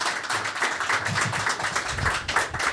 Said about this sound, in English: Ladies and gentlemen, please join me in welcoming Joy Reid and His Excellency the Minister